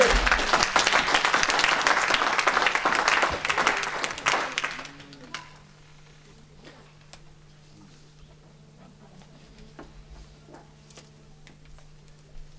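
A church congregation applauds loudly for about five seconds, dense clapping that then stops abruptly, leaving a quiet room hum with a few faint scattered sounds.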